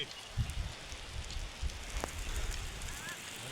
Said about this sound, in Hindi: कितनी भयंकर बारिश आ रही है